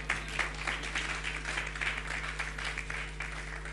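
A church congregation applauding, a dense, steady wash of many hands clapping together throughout, loud and close with a low constant hum underneath.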